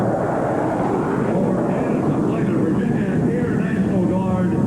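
Aircraft passing low over an outdoor inauguration ceremony for a state governor, a steady loud broadband engine roar that holds throughout, swelling slightly toward the end, with no clear speech over it.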